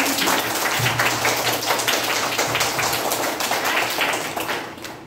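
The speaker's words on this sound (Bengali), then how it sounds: "এটা জোরে হাততালি হয়ে যায়। জোরে হাততালি।" Schoolchildren at a primary school quiz loudly clapping for the winning group, a dense, fast, rain-like patter of many hands that stays steady before thinning out near the end.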